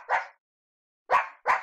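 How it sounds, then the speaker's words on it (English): A dog barks three times indoors, one sharp bark followed by a pause and then two quick barks, fairly close and clear. "Shut up, doggy."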